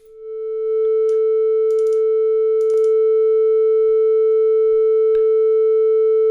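A steady FM synthesizer tone holds throughout, with brief rapid trill flickers breaking over it a few times; bright and close, no voices.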